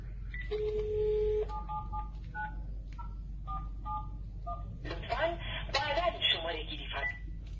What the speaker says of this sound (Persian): تلفنی که من الان میگیرم، نگاه کنید، مثلا یه خطی رو میگیرم